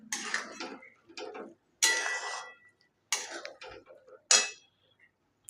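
A utensil stirring and scraping egg keema in a pan after the gas is turned off, heard in four separate bursts of clattering and scraping, close, with short quiet gaps between them.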